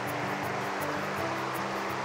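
A river runs loudly beside a riverside campsite at Aonohara Auto Campground in the Doshi area, a steady broadband rush of water with no talk over it.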